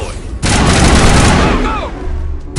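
A missile launch in Mass Effect bursts out after a brief lead-in, a loud roaring blast that sustains for about a second and a half before tapering into rumbling noise.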